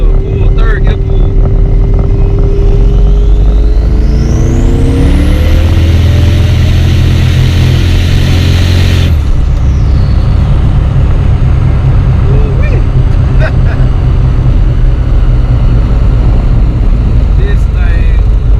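A turbocharged Camaro with a TH400 transmission pulls hard in third gear, its engine note rising loud and close before easing off, with a steady roaring drone continuing afterward.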